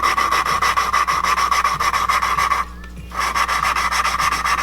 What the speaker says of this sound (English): you're gonna hear and you're gonna feel the grit cutting